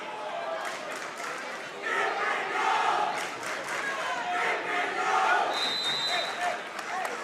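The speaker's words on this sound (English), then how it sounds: "And there's Caldwell's crowd." Caldwell fans roar from the stands at a boys varsity wrestling dual meet against West Essex, a loud sustained crowd din of shouting and cheering that swells midway and stays high.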